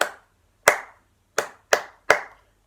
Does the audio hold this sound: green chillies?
no